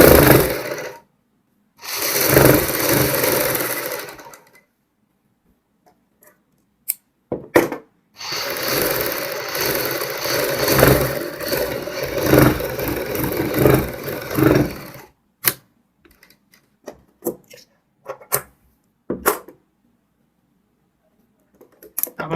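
Sewing machine stitching a blouse back neck panel along buckram interfacing, running in two long loud bursts of steady mechanical whirring separated by silence, then a few short stop-start stitch bursts at the end.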